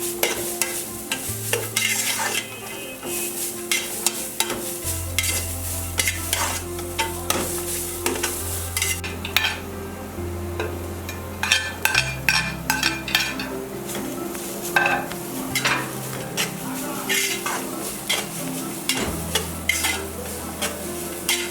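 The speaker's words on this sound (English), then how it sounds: "Continue to stir fry." Small chops stir-fried in a pan: continuous sizzling under repeated scraping and clinking of a utensil against the pan, close and busy, with a low steady hum underneath.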